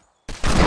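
A Deagle pistol fires in Fortnite: silence, then a sudden loud crack followed by a second heavy, dense blast that keeps ringing to the end.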